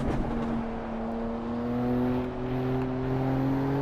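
Racing car engine from Assetto Corsa Evo, revving steadily with rising tonal harmonics, a smooth, fairly quiet drone climbing in pitch without talk.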